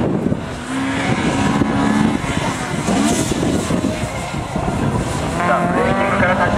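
Honda Civic race car at a circuit time-attack heat, engine note rising and falling as it works through gears nearby, with a commentator speaking over the continuous roar.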